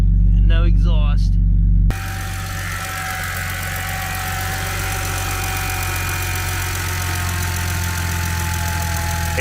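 A car with no exhaust fitted idles loudly in a steady, rough rumble at an auction, starting after a brief moment of talk over a low hum and then running on unchanged.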